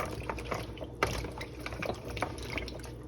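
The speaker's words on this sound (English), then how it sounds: "And we throw that water off." Vinegar water is tipped out from washed raw vegetables, a short run of sloshing, splashing and dripping with a distinct splash near the start.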